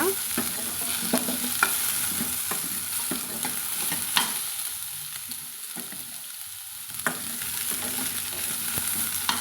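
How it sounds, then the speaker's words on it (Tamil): Chayote sautéing in oil in a pan, a constant soft sizzle with scattered scraping stirs of a spoon, close and steady throughout, with no talking. "இது வதங்கி வதங்கிட்டு இருக்கட்டுங்க"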